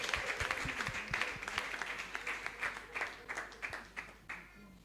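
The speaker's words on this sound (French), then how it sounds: "Acclame encore très très fort." A church congregation applauding with steady, moderately loud clapping that fades a little toward the end.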